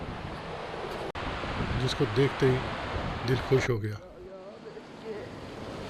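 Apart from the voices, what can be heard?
waterfall beside a mountain road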